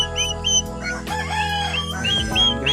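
Month-old turkey poults call at close range, a busy mix of high chirps and clucking notes overlapping in quick bursts.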